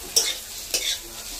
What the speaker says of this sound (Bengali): দেখুন কি সুন্দর তেল তেল ভাজা হচ্ছে